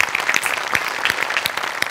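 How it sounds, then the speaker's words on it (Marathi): A studio audience at a Marathi comedy show claps enthusiastically, a close, lively burst of many overlapping hand claps with uneven rhythm. "एकदा त्यांच्यासाठी टाळ्या वाजल्याच पाहिजेत."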